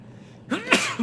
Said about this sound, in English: old man sneeze